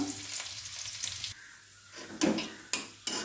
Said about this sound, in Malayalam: ചെറിയ ഉള്ളി കടുക് വറുക്കാനായിട്ട് അരിഞ്ഞിട്ട് കൊടുക്കാം.